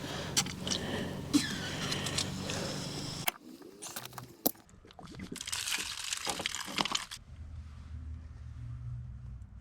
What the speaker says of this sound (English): I'll turn one of them on just to bleed out the water pressure